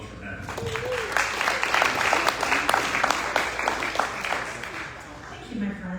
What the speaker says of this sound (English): Come on, a big round of applause for Natalie